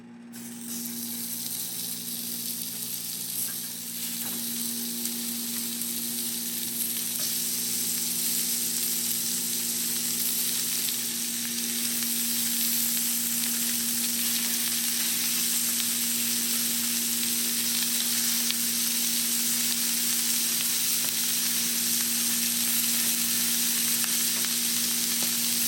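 Sausage and eggs frying in a cast iron pan, a steady, close, even sizzle that holds without a break from start to finish, with a low hum running underneath it.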